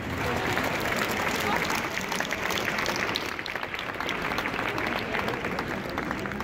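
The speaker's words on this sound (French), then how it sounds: "Je vous remercie de bien vouloir les applaudir pour les remercier." A crowd at an evening Catholic gathering in Paris applauds the police, sustained dense clapping that dips briefly midway, with faint voices mixed in.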